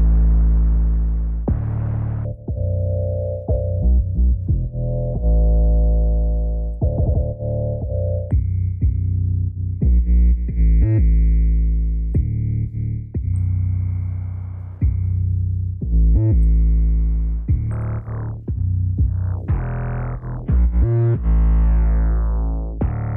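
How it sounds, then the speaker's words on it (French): Synth notes from an Arturia MiniLab3 in Reason Studio 12 with a noise effect dialed in, loud, buzzy sustained tones changing pitch, with a hissy, wavering noise layer rising over them in the middle and no voices. "Si je remets noise, bah ça me rajoute du bruit."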